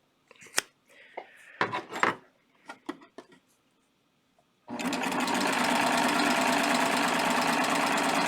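A serger sewing machine stitches over cording as braided handles are made, starting after a few scattered clicks and cutting sounds and then running as a loud, steady, continuous whir to the end.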